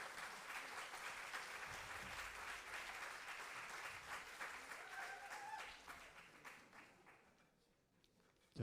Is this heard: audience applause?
yes